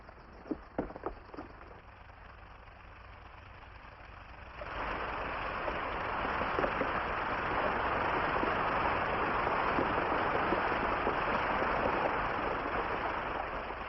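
Water rushes through an irrigation head gate after its top planks are pulled, a steady loud roar that swells in after a few quiet seconds and a couple of sharp knocks, then continues unbroken.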